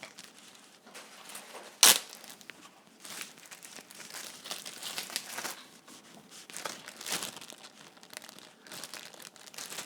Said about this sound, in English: I take these strawberries, all of them, and I put them in this plastic bag.